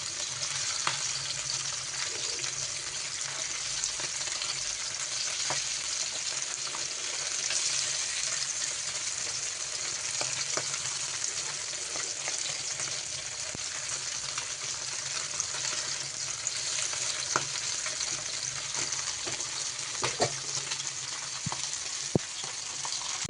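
Sardines and anchovies fry side by side in a pan, giving a steady, close hiss of bubbling oil with faint crackles and pops throughout, no voices.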